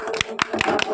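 Four sharp hand claps in an even, quick rhythm, close and fairly loud, during a local ball-into-bottle prize game.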